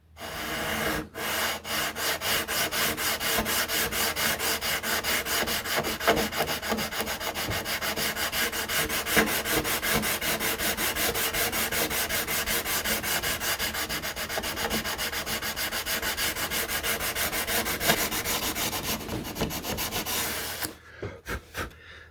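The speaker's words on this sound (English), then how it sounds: "You'll see when I start sanding what the idea is." Sandpaper is rubbed back and forth along a routed channel in a wooden piece for a quarter chippy build. The rasping strokes repeat quickly and evenly for about twenty seconds, close and steady, then stop abruptly.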